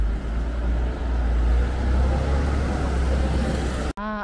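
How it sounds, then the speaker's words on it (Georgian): A bus rumbles past on a street in Cyprus, a loud low engine drone with traffic noise that ends in an abrupt cut. "ნახეთ, ახლა სადღაც ავტობუსი."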